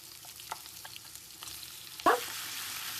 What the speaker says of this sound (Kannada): ಚಿಕನ್ ಹಾಕೊಳ್ತಾ ಇದೀವಿ.